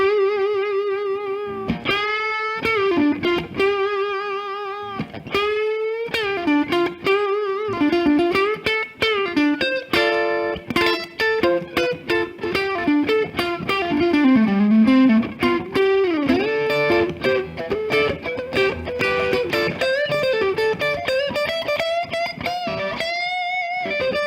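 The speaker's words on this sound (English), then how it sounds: "you have to demonstrate the clean blend" An electric guitar, a Strat with single-coil pickups, plays through a distortion pedal with the clean signal blended in, giving phrases of sustained notes and quick picked runs with bright attack, loud and alone without talk.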